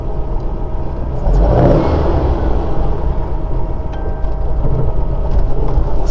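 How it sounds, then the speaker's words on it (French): A 1960 Volkswagen Beetle with a four-speed gearbox, its engine running loud and near with a deep continuous exhaust rumble that swells around the middle, heavy rushing noise throughout. "Ah, c'est l'échappement qui fait ça."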